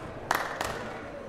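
At a monument in Hyderabad, two sharp hand claps ring out about a third of a second apart. Each is brief and bright, with a short echo trailing over steady outdoor background noise.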